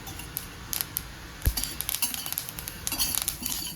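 Flax seeds dry-roasting in a pan, giving a steady crackling patter of tiny pops and ticks, with one slightly louder knock partway through.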